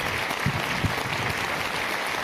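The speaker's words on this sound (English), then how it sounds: "let's give another round of applause to Strive" An audience at Stanford University applauds speaker Strive Masiyiwa after his presentation: steady, moderately distant clapping from a large room that holds an even level throughout, with no talk over it.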